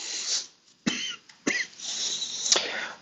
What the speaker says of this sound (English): I'm still getting over a cold and a cough here